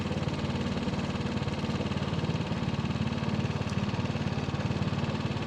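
A Tohatsu 4HP outboard motor runs at full throttle on a Pelican Bass Raider boat with a steady, buzzing drone throughout and no voices.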